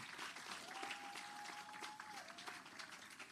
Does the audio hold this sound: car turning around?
no